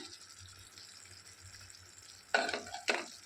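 Spices, cumin powder among them, being stirred into palak paneer in a pan: a quiet scraping and sizzling bed, then two sharper clanks of a spoon against the pan near the end.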